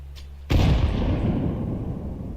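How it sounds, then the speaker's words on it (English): A grenade detonates in a first-person shooter game, a sudden heavy boom that erupts after a quiet moment and then rolls on as a loud, dense rumble slowly fading over two seconds. "Grenade out."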